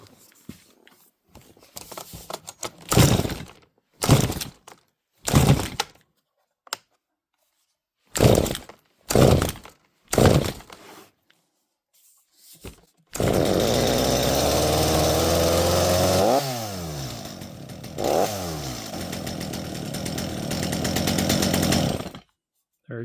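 A Stihl MS230 chainsaw with a throttle issue is pulled several times in short bursts, then catches and runs steadily at a loud idle, revving up once or twice before cutting off.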